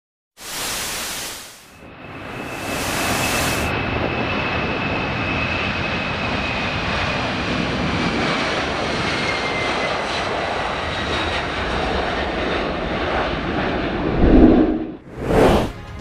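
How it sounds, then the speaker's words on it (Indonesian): A Boeing 747 jumbo jet airliner during takeoff or landing: a loud, sustained jet-engine roar with a thin high whine, holding steady for most of the stretch, with brief louder bursts at the start and end. "Boeing 747 dikenal juga sebagai Jumbo Jet, adalah pesawat penumpang berbadan lebar terbesar kedua saat ini"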